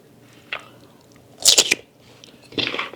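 Crunchy bites into a raw pear spread with almond butter, three close, crisp crunches at separate moments, the middle one loudest and sharpest, with quiet gaps between.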